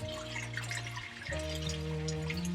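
Calgon water softener liquid poured from its bottle into an RV black tank, a steady close gurgling stream under a low steady hum, with a brief break in the pour midway.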